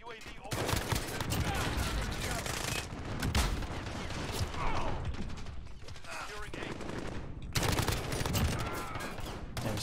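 Rapid bursts of automatic gunfire and single shots from a Call of Duty Modern Warfare match, loud and near, firing in dense volleys with brief pauses, with some talk over the top.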